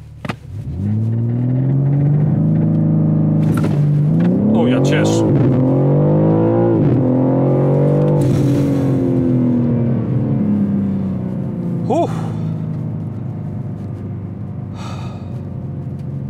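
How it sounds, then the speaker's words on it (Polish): A BMW M3 Touring G81 launches hard from a standstill in its fastest mode, its engine revving loud and rising through gear changes for several seconds, close and continuous, with an occupant's exclamations over it. "Włączymy tryb najszybszy i sprawdźmy, jak to auto przyspiesza ze startu zatrzymanego."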